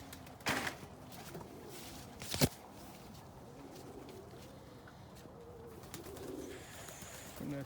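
Homing pigeons, including almond homers and rollers, in a loft on a cold day, with soft cooing and a couple of brief sharp flutters or knocks, fairly quiet and close, with no talk.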